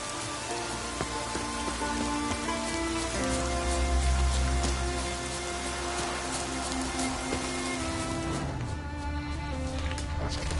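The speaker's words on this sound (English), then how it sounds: "Looks like rain." Steady rain falling in The Witcher 3, a continuous dense patter that fills the whole scene at an even level, with game music and ambience running underneath.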